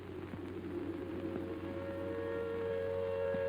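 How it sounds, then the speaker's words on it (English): An air raid siren wails in post-war Germany, a steady sustained tone that holds for several seconds over a low rumble, distant and even in level. "Then the air raid siren wails again"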